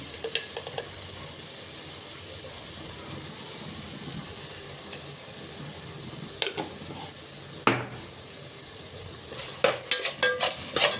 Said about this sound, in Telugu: ఇప్పుడు మనం కొంచెం అల్లం వెల్లుల్లి పేస్ట్ యాడ్ చేసుకుందాం